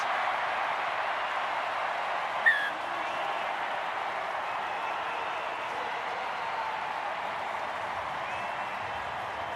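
A stadium crowd at a Hong Kong Sevens rugby match between Uruguay and Hong Kong China roars and cheers in a steady, dense wall of screaming and applause that holds throughout, with one brief louder spike.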